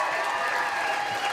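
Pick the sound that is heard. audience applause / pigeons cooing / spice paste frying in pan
audience applause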